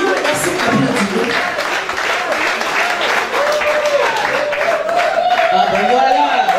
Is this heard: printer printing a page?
no